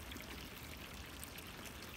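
Dirty water drains steadily out through a small hole in a farm water setup fed by a river hose, a continuous close pouring and trickling rush with no talking.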